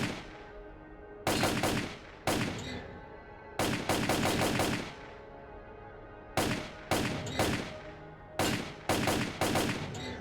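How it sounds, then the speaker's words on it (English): A SWAT gun fires in rapid bursts at targets in the video game STALKER: Clear Sky, loud sharp shots grouped into several quick volleys separated by short quiet gaps. "Oh, it's a SWAT. I didn't even know this gun was in the game."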